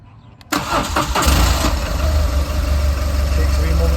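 A 2009 BMW R1200GS motorcycle engine cranks and fires about half a second in, then settles into a loud, steady idle that continues to the end.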